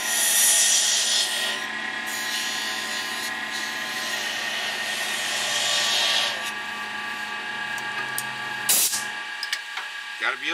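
Sandpaper rubbing steadily against a wooden shaving brush handle, a continuous close rasping that eases off after about six seconds, followed by a few brief knocks.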